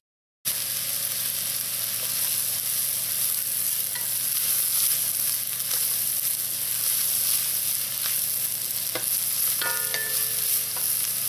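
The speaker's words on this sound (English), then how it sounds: "I put in 2 tablespoons of butter to soften up. And to that I'm going to add my carrots. and my onion." Carrots and onion sautéing in browned butter in a pot, a steady even sizzle with a few faint utensil clicks near the end and no talking.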